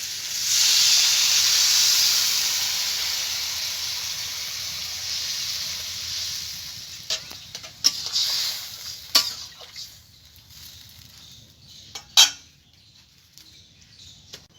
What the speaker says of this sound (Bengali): বন্ধুরা দেখুন, তরকারির জলটা ফুটছে